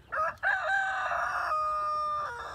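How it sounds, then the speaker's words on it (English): A red rooster crows loudly and close by on a backyard chicken setup, one long drawn-out cock-a-doodle-doo that follows a brief opening call, with no voices. "which is the one that just crowed"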